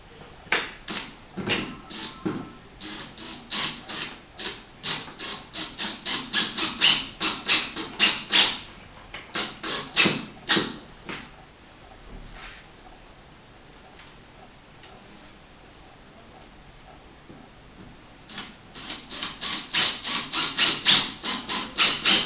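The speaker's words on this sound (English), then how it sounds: "again there's 2 further self-tapping screws to go in" Self-tapping screws driven into a desk top on an Allcam GDF03M gas spring height-adjustable desk frame, giving two bursts of rapid clicking, ratcheting turns separated by a quiet pause, fairly close and alone.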